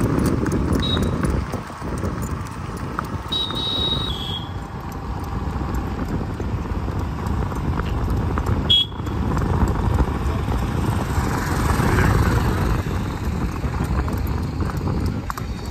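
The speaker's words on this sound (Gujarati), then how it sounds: "આ ઘોડો" Horse hooves clip-clop steadily along with a broad road rumble, joined by a few sharp knocks and a brief high whine partway through.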